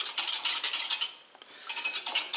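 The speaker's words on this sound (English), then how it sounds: "I'm going to whisk this together." A cornstarch mixture for gluten-free Salisbury steaks is whisked briskly in a bowl, giving rapid rhythmic tapping strokes close up. The whisking pauses briefly in the middle, then resumes at the same quick pace.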